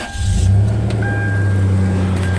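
Toyota 4Runner engine fitted with a Thrush muffler, turning over and settling into a steady, loud, deep idle that carries on without pause, with no voices.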